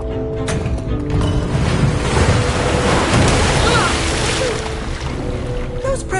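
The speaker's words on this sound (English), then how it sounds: "Those pressure plates release waterfalls upstairs" Water pours and rushes as pressure plates release waterfalls in Minecraft: Story Mode, a steady, fairly loud broadband wash that swells slightly midway and runs through the whole moment.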